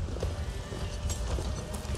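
Horse hooves clop rhythmically in a quick, steady gait in the video game Assassin's Creed Valhalla, heard over a dense, booming background.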